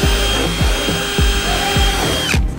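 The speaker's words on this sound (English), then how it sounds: "I'm about to drill the hole right there." Power drill boring a small pilot hole through a van roof for a solar cable flange, a loud close whine with a steady pitch and repeated rhythmic bumps, then stopping abruptly near the end.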